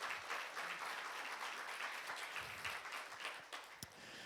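A church congregation applauding during a pastor's sermon, a steady wash of many hands clapping at moderate distance, fairly quiet and sustained throughout.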